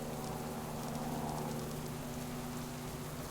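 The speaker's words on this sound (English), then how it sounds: "And it started to rain." Steady rain falls across an outdoor landscape in the survival game Subsistence, a dense, continuous hiss with no breaks, fairly loud and unaccompanied by voices.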